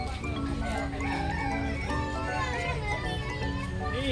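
Chickens cluck and a rooster crows amid a busy farmyard, with people talking and children's voices mixed in.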